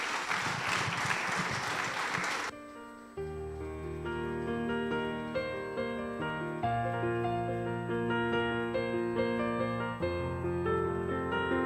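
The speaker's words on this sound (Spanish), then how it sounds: "Fuerte ese aplauso al Señor" A church congregation claps loudly for a couple of seconds before the applause cuts off and gentle keyboard music continues alone.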